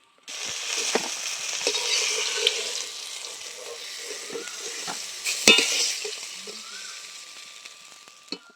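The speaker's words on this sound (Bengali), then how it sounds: "বাকি মাছগুলো আমি একই রকম করে ভেজে নেব।" Fish sizzling and spattering in hot oil, a steady crackling hiss with occasional sharp pops and scrapes of stirring, close by.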